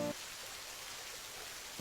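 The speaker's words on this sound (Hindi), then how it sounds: "बरसात लग गई है।" Steady rain falls in a continuous, even hiss, moderately faint and without voices.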